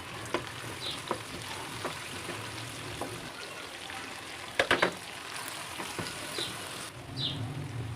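Onion and garlic fry in hot oil in a pan, a steady close crackling sizzle with scattered pops and a few sharper clatters of stirring, no talking.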